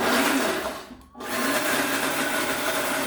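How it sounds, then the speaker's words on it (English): A kitchen blender whirs loudly while blending raspberries with cashews for homemade cashew butter, a steady high motor buzz with a brief pulse dip in the middle before resuming. "So I'm adding this into the blender, and I will not add water."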